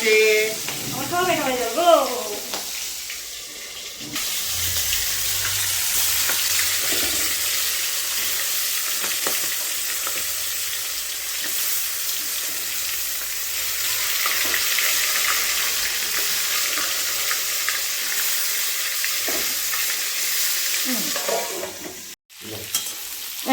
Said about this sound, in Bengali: চিংড়ি মাছটাকে হালকা করে ভেজে নেবো